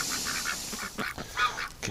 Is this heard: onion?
no